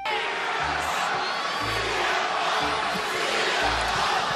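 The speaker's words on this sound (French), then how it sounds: "la foule a commencé à ce moment précis à chanter" An arena crowd at the Allstate Arena during WWE SmackDown chanting CM Punk's name: a loud, dense roar with rhythmic low pulses of the chant repeating through the clip.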